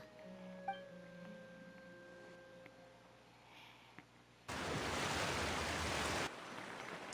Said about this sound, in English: that water was so loud in my ears